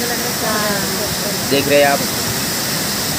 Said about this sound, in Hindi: ये देखिए और नज़दीक से झरना आज बहुत ज़ोरों से गिर रहा है